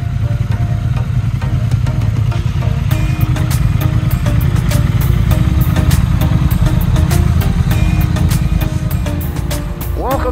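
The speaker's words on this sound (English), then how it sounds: "I'm out for a ride on the two Triumphs today, the Bonneville and the Triumph Thruxton." Triumph Bonneville T120 and Thruxton RS motorcycles run on a ride, a steady loud engine drone with low rumble and wind noise throughout.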